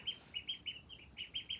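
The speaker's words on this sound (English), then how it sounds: "we got 3 little khaki ducks" Three little khaki ducklings peep in a quick series of thin, high chirps, about eight faint, evenly spaced calls close by with no talking.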